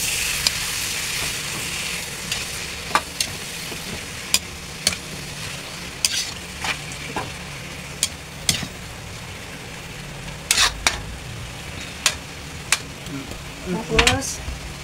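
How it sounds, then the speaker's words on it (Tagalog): Meat and onions sizzle steadily in a pan while being sautéed for dinuguan, with a constant frying hiss broken by frequent clicks and scrapes of a spatula stirring, close up and without talking. "Gisa-gisa lang natin yan."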